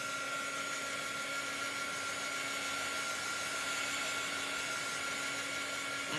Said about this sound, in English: So I'm drying my chalk paste again.